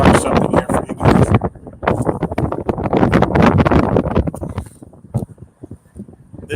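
Heavy wind buffeting a microphone in loud gusts during a drive on Oahu's South Shore, Hawaii, continuous rumbling roar that eases briefly toward the end.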